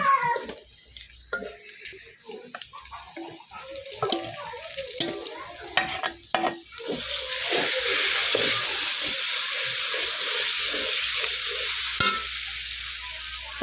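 Onions frying in a pan while being stirred, with intermittent scraping and clatter, then a steady loud sizzle that swells and holds near and close for the second half.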